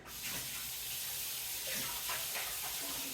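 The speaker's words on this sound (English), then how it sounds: "Let me wash my hands." Hands being washed under a running kitchen tap, a steady close rush of water with soft splashing changes as the hands move through the stream, continuous throughout.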